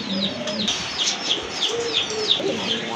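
Several pigeons coo in a loft of mixed local and foreign breeds kept for sale, with a steady, busy run of soft warbling calls and chirps close by and no talking.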